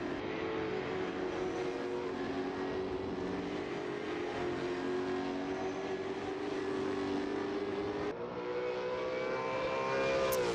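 A V8 championship race car at Phillip Island screams past with a loud, sustained engine note that rises and falls through the gears, with a brief dip as it shifts before climbing again.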